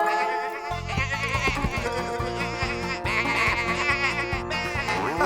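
Cartoon sheep bleat repeatedly in a chorus of wavering, nasal cries over bouncy background music, loud and close.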